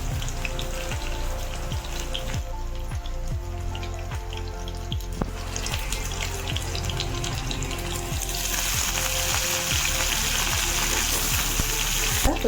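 Tempering seeds and garlic crackle and sizzle steadily in hot oil, a close, continuous spitting fry with sharp pops scattered throughout.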